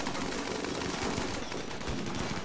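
Rapid automatic gunfire in the RimWorld video game, a dense, continuous rattle of shots held steady at moderate loudness throughout.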